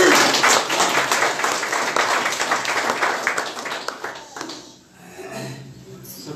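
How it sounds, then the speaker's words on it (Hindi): A congregation at a Hindi-language Christian worship gathering gives a loud burst of applause to God, dense clapping that fades out after about five seconds. "क्यों ना परमेश्वर के लिए एक जोरदार ताली दें।"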